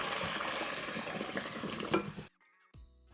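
Hot sauce and beef stock pour into a hot Dutch oven with a loud sizzle and splash for about two seconds, then the sound stops abruptly, followed by a short clatter.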